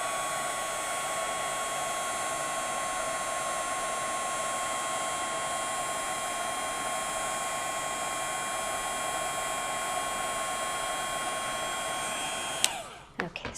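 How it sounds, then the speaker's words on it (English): A heat tool blows steadily for about thirteen seconds while melting gold embossing powder for a paper craft, a constant whooshing hum with a whine, then cuts off abruptly with a few small clicks at the end. "And I'll heat this up with the heat tool."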